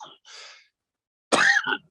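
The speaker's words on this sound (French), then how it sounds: "Excusez-moi, je vais tousser." A single harsh cough from a person with Covid bursts out close by after a couple of soft breathy sounds and a short pause.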